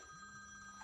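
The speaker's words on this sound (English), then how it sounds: "oh hold on, that's my phone." A mobile phone rings with a steady electronic tone that lasts under a second, heard alone with no talk.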